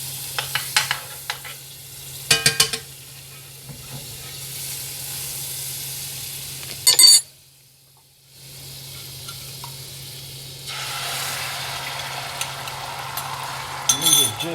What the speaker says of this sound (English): I'm going to go ahead and do the scrambled eggs first here.